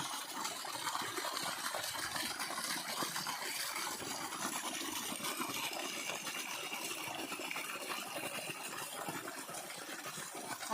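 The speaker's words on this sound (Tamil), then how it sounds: "பம்ப் செட்டில் தண்ணி எப்படி போகுது பாருங்க" Water gushing steadily from a farm borewell pump set outlet, a continuous broad rushing splash heard close and fairly loud with no talk.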